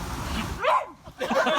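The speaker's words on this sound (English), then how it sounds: "The dog." A dog barks and yips in a short, loud burst at an outdoor wedding ceremony, with a couple of sharp calls standing out over background murmur.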